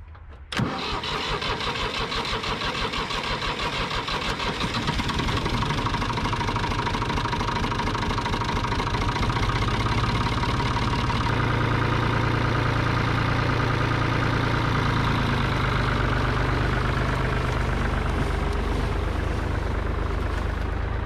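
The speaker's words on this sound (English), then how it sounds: "You got a tractor running over there." A loud engine starts with a sharp catch, then runs steadily throughout, a deep continuous rumble with a heavier low drone joining partway through.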